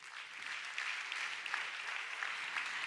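Audience applauding at an Italian business award ceremony as a prize winner takes the stage, a steady, moderately distant patter of many hands clapping without pause.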